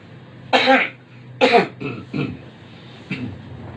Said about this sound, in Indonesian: Maaf batuk, karena tadi minum kopi kebanyakan sama air dingin.